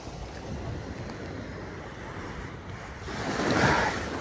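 Atlantic Ocean waves break on the shore at Shinnecock East County Park on Long Island, a steady roaring surf that swells louder near the end, with wind buffeting the microphone.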